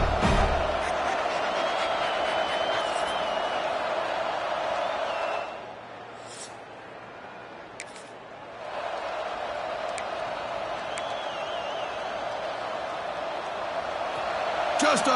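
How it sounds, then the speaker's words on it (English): Stadium crowd noise from a home crowd in the College Football 26 video game, a steady loud roar throughout that dips briefly in the middle before swelling again, with commentary voices over it. "this home crowd is fired up and ready to make a difference today"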